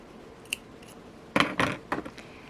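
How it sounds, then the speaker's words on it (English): Scissors snip through thread during handmade lava stone and metal bead bracelet work, giving a faint click and then a quick run of three or four crisp close cuts. "now I will take the scissors, cut"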